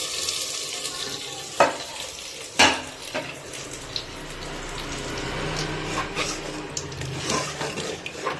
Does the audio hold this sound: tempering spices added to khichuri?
yes